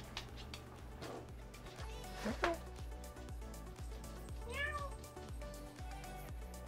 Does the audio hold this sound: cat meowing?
yes